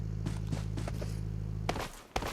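Footsteps patter in the PUBG Mobile video game, a run of soft, regular steps over a steady low hum, followed by a couple of sharper, louder thuds near the end.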